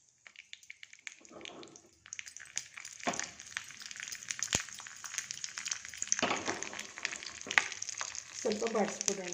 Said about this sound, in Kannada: ಅದನ್ನು ಒಗ್ಗರಣೆ ಮಾಡಿ ಇದರೊಳಗಡೆ ಹಾಕ್ಕೊಳ್ಳೋಣ ಪಾಯಸಕ್ಕೆ.